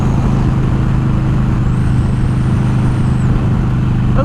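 A motorcycle on an open road on a bright day rumbles as a steady, loud engine drone with wind noise, constant throughout and without breaks.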